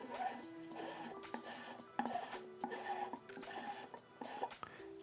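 The threaded bottom of a 3D-printed trumpet mute is unscrewed by hand, giving faint, close plastic rasping and scraping with small clicks and ticks in a repeated twisting rhythm.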